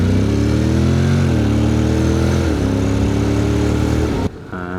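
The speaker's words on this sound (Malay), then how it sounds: "Dia bila high RPM yang sedap bunyi dia tu." A Yamaha MT-09 motorcycle engine screams loud and close at high revs, pitch climbing and dipping steadily, then suddenly cuts away near the end as the roar drops off.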